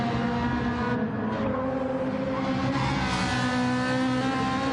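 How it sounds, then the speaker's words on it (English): Ferrari race car engine in a wet-weather touring car racing video game, roaring loudly and steadily at high revs with a sustained harmonic drone throughout, no talk over it. "That Ferrari sounds so nice"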